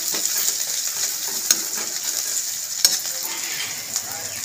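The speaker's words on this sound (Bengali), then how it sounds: "এবার ঢাকাটা খুলে দেবো, নাড়িয়ে নেবো। আর ঢাকা দেবো না আমি, এরকমভাবে কিছুক্ষণ ধরে আবার ভাজতে থাকবো।" Flat beans and lentil bori frying in an uncovered pan, a continuous close sizzle with occasional sharp clicks as a spatula stirs the mixture.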